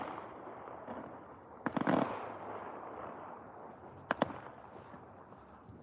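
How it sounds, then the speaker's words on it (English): New Year's Eve fireworks crackle and pop at a distance, with a cluster of sharp bursts early on and a tight pair of bangs later over a steady background rumble. "See, people are starting to set up their fireworks."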